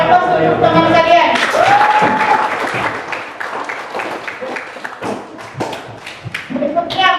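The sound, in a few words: audience applause for presenting students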